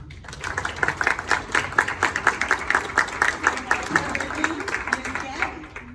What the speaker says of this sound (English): I applaud each and every one of you